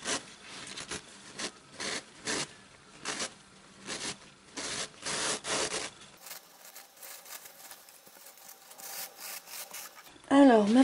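Paper envelope being torn in a series of short rough ripping strokes, about a dozen close bursts in a steady rhythm before the tearing thins out, with a brief voice at the very end.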